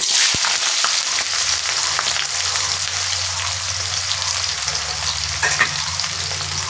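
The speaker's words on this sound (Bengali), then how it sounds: "পেঁয়াজটা একটু ভেজে নেব আমি" Onions and green chillies frying in hot oil with whole cumin, giving a loud, continuous crackling sizzle with a few stirring scrapes, close and steady.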